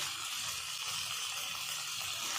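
Ginger-garlic paste, tomato and green chillies saute in a pan with a steady, soft hiss of sizzling oil, continuous and close, with no talk over it.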